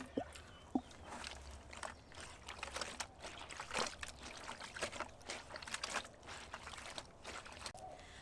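Water from wrung-out laundry splashes and trickles into a 5-gallon bucket in irregular bursts and drips, fairly close, with no talking.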